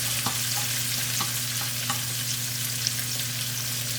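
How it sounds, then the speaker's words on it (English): Onions caramelizing in a pan for East African braised chicken with pelau give a steady, close, even sizzle with a few soft stirring taps, and no voices. "we are going to caramelize the onions"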